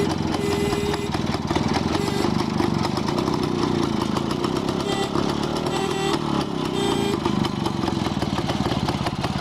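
A Voskhod motorcycle engine runs steadily after being kick-started, a loud, continuous rasping two-stroke drone that holds evenly throughout with no talk.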